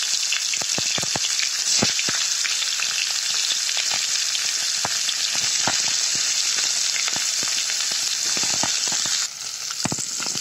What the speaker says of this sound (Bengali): আবার তেল গরম হয়ে গেছে, এখন পেঁয়াজগুলো দিয়ে দেবো।